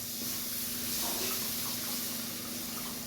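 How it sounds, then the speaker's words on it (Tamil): Steady hissing, splashing liquid close by, a continuous pour of tamarind water into a pan for drumstick pickle, with a faint hum underneath. "இந்த புளி தண்ணி கரைச்சி வச்சுருக்கோம்னா மிச்ச தண்ணி இருக்குது, அதில் ஊற்றிக்கலாம்"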